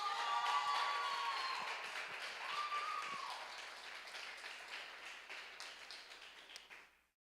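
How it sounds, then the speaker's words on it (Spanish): Audience applause in a crowded church hall during a Friday testimony night, dense steady clapping from many hands that fades out after about seven seconds, with a brief sustained tone partway through. "un aplauso por favor"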